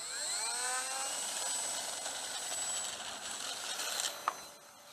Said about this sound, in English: fast little airplane, going up!